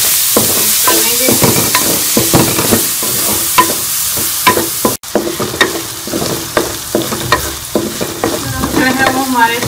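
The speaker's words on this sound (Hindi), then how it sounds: "इसी घी के अंदर जो है वो मैं प्याज शामिल कर लूँगी।" Onions fried in ghee while making white chicken karahi, with a steady sizzle, repeated stirring scrapes and clinks in the pan throughout, close and loud, with no talking.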